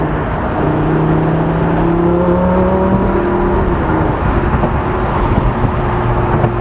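Lamborghini Gallardo LP560-4 Spyder on a test drive, the engine revving under throttle with rising and falling tones over loud road and wind noise.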